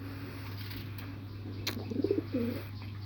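A pigeon coos in a short burst of low, throaty pulses near the end, fairly close, over a steady low hum with no talk.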